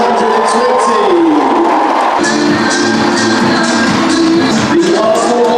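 Stadium crowd of about 42,820 at an Arsenal v Leicester City Women's Super League football match, a loud continuous roar of massed voices with cheering swells and chanting, filling the whole stretch without pause.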